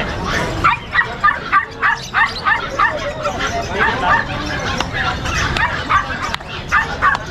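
Pomeranian and poodle puppies yip and bark repeatedly in a busy pet shop, a steady run of short, fairly close barks mixed with whimpers over a background of voices.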